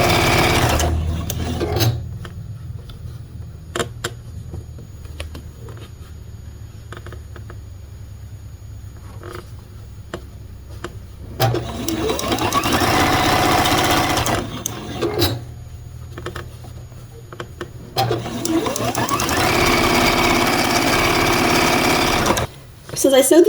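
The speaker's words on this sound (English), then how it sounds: "start sewing down this first row." A sewing machine runs in two long, steady bursts while quilt rows for a snowman quilt are sewn together; someone talks quietly through the quieter stretches, with soft fabric handling sounds between runs.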